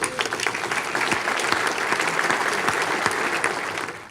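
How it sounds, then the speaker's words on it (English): Awards dinner audience applauding for Henry Cobb, lifetime achievement honoree, as he is called to the stage; a sustained, dense round of clapping from a large room, steady throughout before cutting off. "So Henry, could you please join me on the stage and give him a round of applause?"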